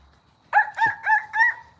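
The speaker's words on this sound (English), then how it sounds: "I'm making him gobble." A farm turkey gobbles in four rapid, close, loud rattling bursts after a brief quiet start, with no talking during the calls.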